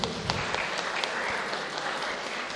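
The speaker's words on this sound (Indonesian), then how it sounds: "Tepuk tangan untuk Bu Agus" Congregation clapping for a woman at a church Christmas celebration, dense steady applause throughout at moderate level, no voices over it.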